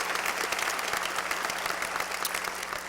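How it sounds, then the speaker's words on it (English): A crowd at a university commencement ceremony applauds student speakers, a dense, steady burst of clapping that fills the whole moment without letup. "Another round of applause for our terrific student speakers."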